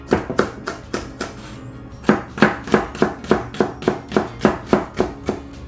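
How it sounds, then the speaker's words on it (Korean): A knife finely minces onion on a cutting board, a steady run of sharp, close chopping taps in quick even rhythm with a brief pause partway, no voices. "양파는 얇게 썰어서 소스에 넣을 거니까 이렇게 잘게 다져주세요"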